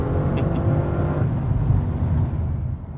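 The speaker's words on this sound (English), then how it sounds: "when you lift or when you downshift, you get these nice backfires from the exhaust" Sustained engine roar from an Audi RS7 with sport exhaust accelerating hard on a German road, with crackling backfire pops mixed into the steady loud rumble before it drops away near the end.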